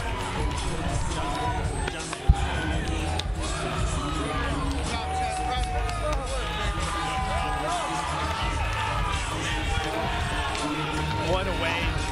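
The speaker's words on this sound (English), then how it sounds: "The crowd going wild, and still Luke Fernandez." A crowd at an MMA fight roars and cheers continuously, a dense, loud wall of shouting and noise with a commentator's voice running over it.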